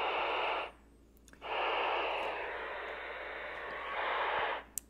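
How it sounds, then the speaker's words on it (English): Hiss of static from a Baofeng handheld radio with the squelch fully open, in loud bursts broken by brief quieter gaps and small clicks, close and alone. "What that basically means is that the squelch is completely open."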